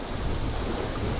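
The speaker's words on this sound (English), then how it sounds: "Right now, the ocean is a little shaky. It's a little choppy." Wind-driven, choppy ocean surf in the Maldives, heard as a steady, loud roar of wind and breaking water that never lets up, with no voices.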